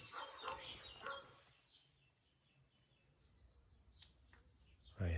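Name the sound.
dogs barking outside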